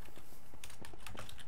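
Computer keyboard keys typed in short irregular bursts during a Minecraft session, fairly close with a faint room hum and no talking.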